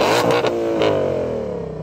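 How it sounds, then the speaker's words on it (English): A Ford Mustang Shelby GT500 engine revs hard and loud with no soft limiter, a sharp rising roar that holds at high pitch near 7,500 rpm and then slowly winds down, heard close with no talking. "I'm going to start by revving up this lovely Mustang."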